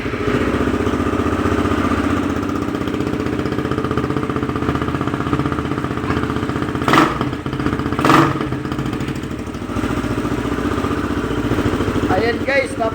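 A motorcycle fitted with a Domino Honeywell switch runs close by at a steady idle, with a couple of brief clicks partway through and a slight throttle rise.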